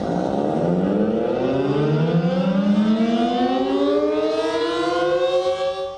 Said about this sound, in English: They produce a steady, high-pitched tone that serves as an urgent call for immediate action.